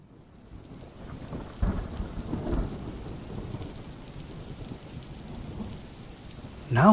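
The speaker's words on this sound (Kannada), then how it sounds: "ನಾವು ಹೋಮ್ ಸ್ಟೇ ರೀಚ್ ಆದ ಕೂಡಲೇ ಮಳೆ ಬರೋಕ್ಕೆ ಸ್ಟಾರ್ಟ್ ಆಯಿತು" Rain falls steadily on surfaces at a homestay in Sakleshpura during a monsoon ride, with a low rumble of thunder rolling through partway, moderately loud and without talking.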